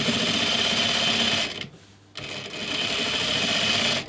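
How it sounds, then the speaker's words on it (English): Steady, loud whir of a sewing machine understitching a pocket seam allowance on climbing pants, running continuously, stopping briefly partway, then starting up again. "And then just understitch this seam allowance down so it lays nice and flat."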